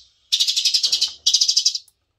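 Sparrow call played through a remote-controlled bird-trap loudspeaker: two bursts of rapid, shrill, evenly pulsed chirping, the first about a second long and the second slightly shorter, loud and close with no talking.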